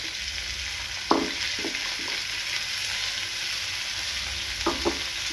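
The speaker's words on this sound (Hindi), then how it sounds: "और फिर हम उसमें आम डाल देंगे।" Raw mango pieces drop into a hot tempering of mustard seeds, cumin and a pinch of asafoetida, giving a continuous sizzle with a sharp crackle burst near the start and a few light stirring clicks later.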